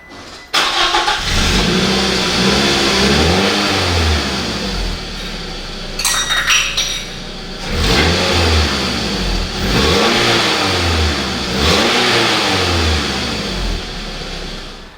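Scion tC engine with the muffler deleted and exhaust spacers fitted, revving hard in repeated loud rising and falling pulls, close and raw, with a brief metallic clink midway.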